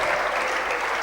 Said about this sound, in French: Acclamons pour la gloire de Jésus.